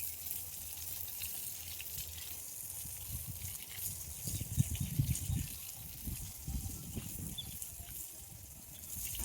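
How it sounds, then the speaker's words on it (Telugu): Water running into buckets during household chores at home, a steady low gushing fill with some splashing swells in the middle, heard alone without talk. "మరోవైపు అన్ని బకెట్లకి నీళ్ళు కూడా పెట్టేస్తున్నాను."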